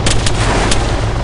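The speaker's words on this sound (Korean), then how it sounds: "근처 총소리 나는데?" Nearby gunfire in the Arma 3 war-simulation game, Westland mod: several sharp, loud shots at irregular intervals ring out over a constant low rumbling background.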